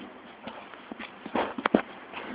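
A mountain goat trots up on hard hooves, giving a few quick, uneven clicks and clops close by that get louder toward the end, with faint background noise.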